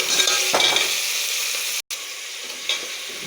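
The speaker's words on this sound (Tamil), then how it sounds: "2 ஸ்பூன் எண்ணெய் ஊற்றிக்கிட்டு வெங்காயத்தை போடணும்." Onions sautéing in a couple of spoons of oil for a crab curry give a steady, close sizzle and fry, with a brief dropout partway through and a few stirring scrapes.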